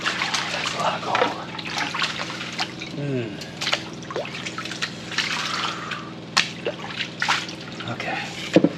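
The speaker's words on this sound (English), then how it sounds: "I'm gonna clean this up with a finishing pan real quick" A gold finishing pan is rinsed out with water, producing trickling, dripping and splashing under intermittent talk, with scattered clinks and handling sounds.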